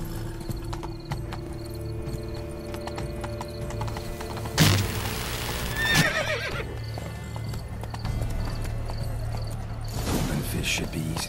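A horse in The Witcher 3: Wild Hunt, Blood and Wine gives a loud whinny amid rhythmic hoof clip-clop over a game soundscape, with a second neigh later on.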